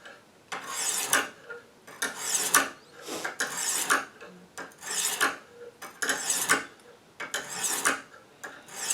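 A knife blade worked up and down on a Lansky sharpening system stone gives rhythmic, close rasping strokes, about eight scrapes in steady succession with short gaps between.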